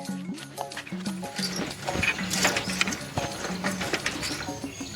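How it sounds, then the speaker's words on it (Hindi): A bicycle in need of oil creaks and rattles with repeated ratcheting clicks and squeaky chirps in an uneven rhythm, close and fairly loud, with mechanical clatter throughout. "किटकिटाहट की आवाज आई जब साइकिल में।"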